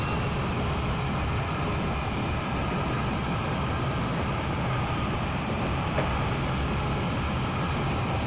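Class 158 diesel train in a train simulator video game, a steady continuous rumble and hum of the running unit with a faint brief squeal partway through, no talking.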